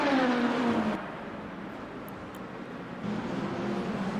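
Race car engines in the Le Mans Ultimate racing game, several cars braking and struggling into a chicane with entry oversteer, engine tones dropping and rising again, steady and moderately loud with no talk.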